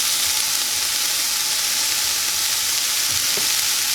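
Baby spinach leaves sizzle and fry steadily in an omelet pan, a continuous hiss throughout with a few soft stirring or dropping sounds near the end.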